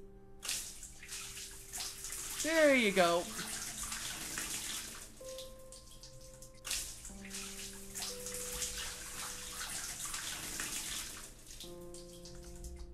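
Water pours and splashes into a bathtub in the video game Homesick, a running, tap-like gush with game music tones behind it and a brief spoken remark.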